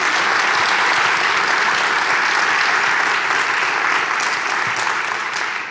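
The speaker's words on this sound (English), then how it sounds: "Please give them a round of applause." A college crowd applauds a student funk band and urban jazz ensemble at a 10th anniversary event, with loud, sustained clapping that holds steady before easing slightly at the end.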